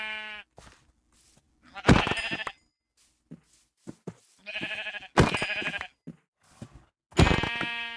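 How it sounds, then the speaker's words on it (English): Sheep in Minecraft bleat three times at a moderate, steady pace. Each bleat is loud and close, and someone speaks between them. "Sheeps. Give me your wool."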